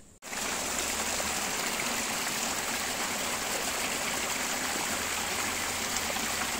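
Water flowing steadily in a small stream on a forest trail at MacRitchie Reservoir, a continuous close rushing and trickling with no breaks after a brief opening click.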